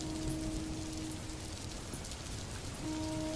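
Heavy rain falling on a stormy night, a dense, even downpour with steady patter on surfaces throughout, no thunder or voices, set in an animated Bengali story.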